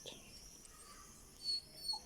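A dog whimpers faintly at another dog, with two short high whines late in the stretch over quiet evening neighbourhood ambience.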